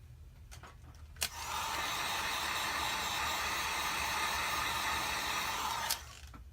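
Steady broadband blowing hiss from a heat gun warming the cracked back glass of an LG V30 during a glass replacement, switching on with a click and running evenly for about five seconds before cutting off.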